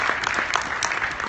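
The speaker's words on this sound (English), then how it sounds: "Another round of applause for those guys." Brief audience applause at an internet marketing conference in Las Vegas for previous presenters, a short burst of scattered claps from a crowd.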